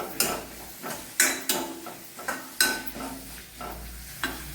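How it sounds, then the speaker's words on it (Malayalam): Crushed ginger-garlic paste hits a pan with softened onions, giving a sizzle broken by repeated stirring scrapes that land roughly every second, close and crisp, without speech. "നമുക്ക് ഇഞ്ചി വെളുത്തുള്ളിയൊക്കെ ചതച്ച പേസ്റ്റ് ഇടാം."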